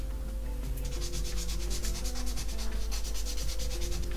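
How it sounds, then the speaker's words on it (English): Close, rhythmic back-and-forth scraping of a broken-off plastic cone from a Bandai Yamato Mecha Colle model kit being sanded flat, a steady series of short rasping strokes over a low hum. "What I'll do is I'll sand that flat."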